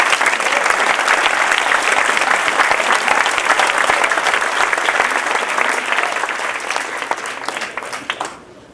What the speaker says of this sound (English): So a big round of applause for our teachers.